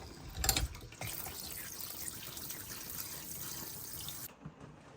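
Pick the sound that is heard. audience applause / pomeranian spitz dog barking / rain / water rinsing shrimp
water rinsing shrimp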